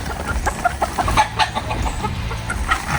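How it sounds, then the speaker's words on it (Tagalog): A rooster and two hens: clucking repeatedly nearby, with soft chicken chatter and scattered calls over a low background rumble. "Ano po, may tandang po. May 2 inahin."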